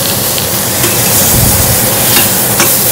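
Sunchokes fry loudly in a hot wok, a dense, steady sizzle and crackle filling the whole stretch with faint scraping stirs and no voices.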